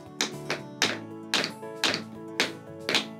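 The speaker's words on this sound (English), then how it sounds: "Put that leg out, don't let it move, but you tap your toe." Tap shoe toe taps strike the floor, seven crisp, evenly spaced clicks with ringing, piano-like tones between them.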